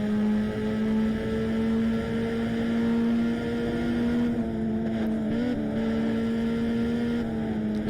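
Steady droning Lotus engine heard from the cabin in the Test Drive Unlimited racing game, a constant low oscillating hum with a slight pitch shift midway, continuous and fairly loud with no talk.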